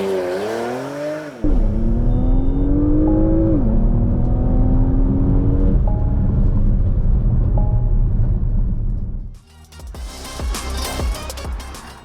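A Porsche Macan GTS accelerates hard through several gears, its engine note climbing loud and close with brief dips at each shift, then giving way to rushing wind and road noise.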